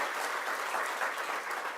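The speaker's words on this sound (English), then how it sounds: "Let's give him a round of applause." A crowd applauds steadily and loudly for the county executive at a governor's housing announcement in Buffalo, with dense, continuous clapping throughout and no talk over it.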